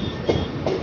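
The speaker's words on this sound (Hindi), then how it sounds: "अपनी ट्रेन का डिपार्चर हो चुका है" The Kamla Ganga Express passenger train rolls out of Rajendra Nagar Terminal near Patna, giving a close, steady rumble with two quick rhythmic wheel clacks over the rails.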